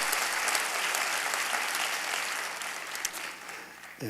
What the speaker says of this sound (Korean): 그것도 박수 한번 해야 되는 거 아닌가요?